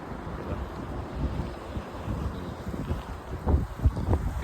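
Gusty wind rumbles against the microphone outdoors at Sabt Al Alayah Park, Saudi Arabia, swelling in bursts toward the end.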